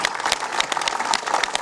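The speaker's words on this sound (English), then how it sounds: "Give them all a warm applause." Audience applause at a commemoration ceremony, a steady patter of many hands clapping close by for a little under two seconds, with no voices over it.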